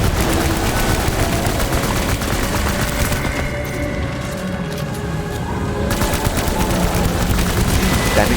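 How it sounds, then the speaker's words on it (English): Assault rifle fire in the game Death Stranding during the Leviathan boss fight rattles in loud sustained bursts, dipping briefly into a lull midway before the dense automatic fire and booms resume. "we need to use the assault rifle."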